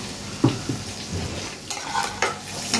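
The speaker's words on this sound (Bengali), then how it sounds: "পেঁয়াজটা খুব ভালো করে ভাজতে হবে" Onions frying in a pan while being stirred, a continuous sizzle broken by several sharp scraping strokes of the spatula against the pan, close and fairly loud with no talking.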